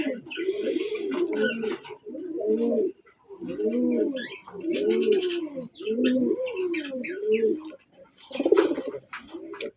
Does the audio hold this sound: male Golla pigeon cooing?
yes